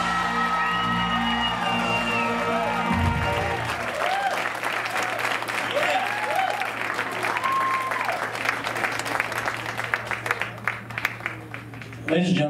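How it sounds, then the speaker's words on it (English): An audience claps and cheers for the Little Elvis contest winners, with sustained applause, scattered whoops and music playing underneath, ending in a few louder claps. "give them a massive round of applause"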